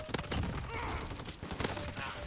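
Rapid bursts of PP-19 Bizon submachine gun fire in Modern Warfare crackle in quick repeated volleys, fairly faint and mixed with other game noise.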